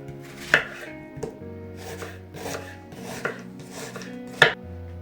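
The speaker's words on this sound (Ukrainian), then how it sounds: "Нарізаємо півкільцями цибулю" A knife chops onion into half rings on a board for a rural-style meat dish: about six sharp, evenly spaced cuts over a steady low background tone, close and clear.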